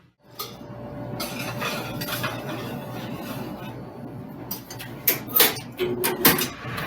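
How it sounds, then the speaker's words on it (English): A vegetarian pizza going into a convection oven during brunch cooking: clinks of pans and metal, a door sliding or opening, and a few sharp knocks near the end, close by in a quiet kitchen. "So you're ready to put it in the oven."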